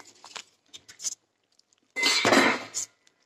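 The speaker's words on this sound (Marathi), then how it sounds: "आता हे काही मी बंद करते आणि हे स्टँडवर ठेवून टाकते गार व्हायला." A pot set down on a stand to cool: a few light metallic clinks and taps, then a louder clattering clank of metal settling, close by and with no talk.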